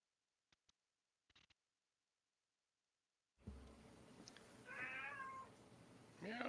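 A house cat named Roxy meows a few times, close and clear, over indoor room noise after a couple of faint ticks.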